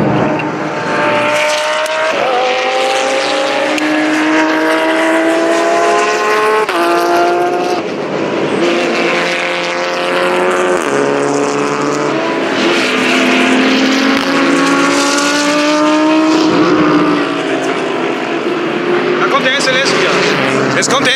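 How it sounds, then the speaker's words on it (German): Cars racing past at a truck grand prix, loud engines revving and shifting through rising and falling pitches in overlapping waves, with one car after another roaring by close to the track. "Im Moment fahren hier gerade die Autos."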